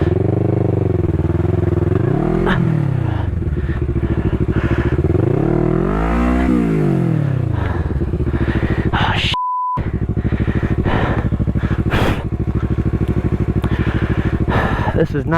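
A motorcycle on Dunlop Mutant tires rides a dirt track, its engine droning loudly and rising and falling in pitch with repeated revving swells, with steady wind noise and a brief beep partway through.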